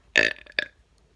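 Two loud, close burps from an adult, a long rumbling one followed by a shorter second belch, then quiet.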